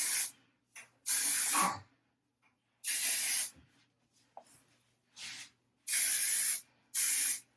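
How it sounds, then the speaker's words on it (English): OGX Smoothing and Shea Sleek Humidity Blocking Hairspray misted onto hair while curling with a flat iron, in about five sharp, hissing bursts separated by short pauses, close to the microphone with no talking. "I've just been using this OGX Smoothing and Shea Sleek Humidity Blocking Hairspray"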